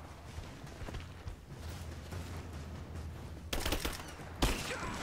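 Gunfire in the Rise of the Tomb Raider video game: low rumbling game ambience, then two loud sharp bursts of shots near the end, sounding close.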